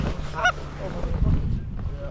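Geese honk on an early-season goose hunt opener, with several loud, nasal calls overlapping close by over a rumbling field background. A voice is briefly heard among the calls.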